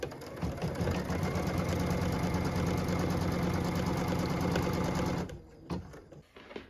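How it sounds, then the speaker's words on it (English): An embroidery sewing machine stitches a tack down line through fabric held in a hoop, a steady fast mechanical whirring hum that runs evenly, then stops and leaves a few soft clicks and handling sounds. "What we're stitching now is the tack down line for piece number 7."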